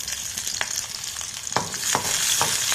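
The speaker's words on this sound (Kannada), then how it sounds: "ನಂತರ ಈರುಳ್ಳಿ ಹಾಕಿ ನಂತರ ಮೆಣಸಿನ್ಕಾಯಿ" Onion and green chili hit a hot pan over garlic for radish chutney, sizzling continuously up close while scraping strokes of a stirring spoon knock through at intervals.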